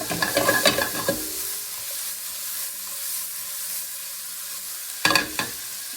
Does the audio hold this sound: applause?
no